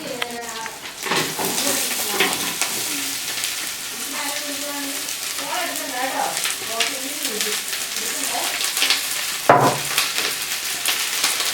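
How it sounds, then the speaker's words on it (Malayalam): Onions being stirred as they fry in ghee in a pan for a Kerala kappa biryani, a steady sizzle with scraping stir strokes beneath a voice talking throughout. "ഞാൻ നൈസായിട്ട് ഇളക്കി കൊടുക്കാം"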